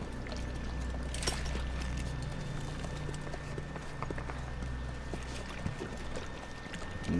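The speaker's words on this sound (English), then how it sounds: "Water." Water pours steadily in Metal Gear Solid 5: The Phantom Pain, a continuous rushing wash over low droning game ambience, with a few faint clicks and knocks scattered through it and no voices.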